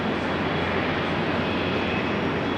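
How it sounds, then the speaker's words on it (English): Steady, loud roar of Boeing 777-200 jet engines spooling up at startup, a broadband rushing hum with a faint high whine, continuous and without voices. "You can hear the engines starting up."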